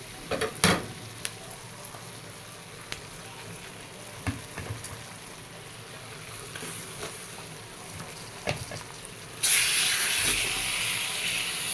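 Chicken with garlic sautés in a pan for an Egyptian-style chicken kabsa, with a quiet steady sizzle and occasional stirring knocks, then a sudden loud hissing burst near the end.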